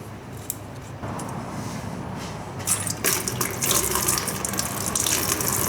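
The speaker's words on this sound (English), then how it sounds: "for now I'm going to drain the radiator." Coolant drains from the radiator of a Yamaha Banshee during an engine rebuild, a steady watery pour and splash that grows louder and busier after a few seconds, heard close with no talk.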